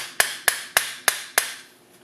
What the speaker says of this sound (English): it's just hammering this pin in